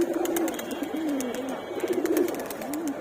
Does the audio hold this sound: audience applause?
no